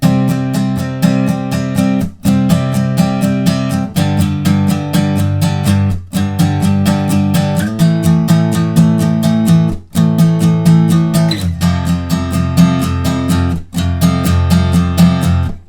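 Electric guitar strumming a chord progression: loud, steady rhythmic strums repeating in even bars with brief muted gaps between chord changes, played alone.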